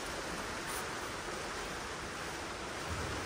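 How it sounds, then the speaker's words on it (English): Rain falls steadily as an even, broadband hiss that stays constant and moderately quiet throughout, with no voices on top of it. "Can you hear the rain?"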